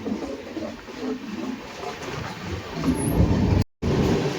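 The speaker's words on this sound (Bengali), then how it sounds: "ট্রেন পুরো কার্ভ হয়ে যাচ্ছে রাইট সাইডে" A passenger express train rumbles steadily along curving tracks, a continuous low clatter filling the space, briefly cut by a moment of silence near the end.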